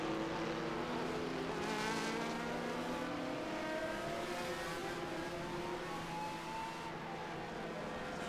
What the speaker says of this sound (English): That's Michael Popp in a 1997 Van Diemen RF 97.